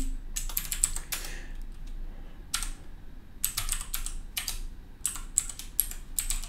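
Quick bursts of keystrokes on a computer keyboard as a Linux terminal install command is typed, clustered clicks separated by short pauses over a low steady hum, close and moderately loud with no talking.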